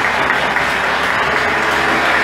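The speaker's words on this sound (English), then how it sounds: "give the Lord a hand clap for you" Church congregation at a Primitive Baptist Sunday service claps hands together in a loud, continuous wash of applause that stays even throughout, with no talking on top.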